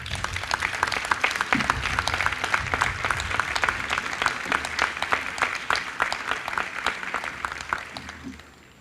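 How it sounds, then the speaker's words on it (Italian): Outdoor crowd in Piazza Maggiore applauding the artist of the Palio banner at a 2023 public ceremony, with dense, sustained clapping from many people that stays lively throughout, then thins and fades out at the end. "a cui chiedo di aggiungere anche il vostro con un forte applauso, all'artista del drappo di quest'anno, Francesco Tullio Altan."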